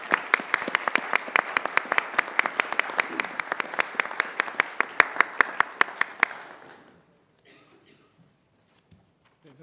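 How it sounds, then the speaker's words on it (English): Applause rings out at a school board of education meeting for award winners, a dense burst of clapping from a room of people that holds for several seconds, then fades quickly into near silence. "So round of applause for Stephanie and all of our award winners."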